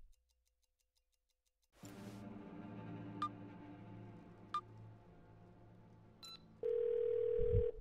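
In the video game 12 Minutes, a telephone dial tone and call sounds follow a silent start: a low hum, a few sharp clicks, then a loud steady tone near the end.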